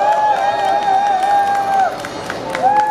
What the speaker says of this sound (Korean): 스키님께 다시 한번 큰 박수 보내주시길 바랍니다